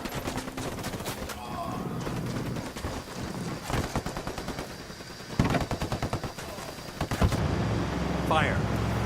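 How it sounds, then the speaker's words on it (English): Bursts of automatic gunfire from the video game Ghost Recon Wildlands, set in Bolivia, with clusters of rapid shots spread through the clip and a louder volley near the end, mixed with voices talking. "I'm opening fire."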